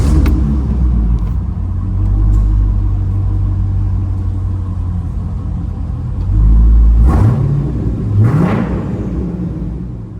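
A C5 Corvette V8 with bullet exhaust idles with a deep, steady burble up close in a parking garage, with a couple of short throttle blips raising the pitch before settling back.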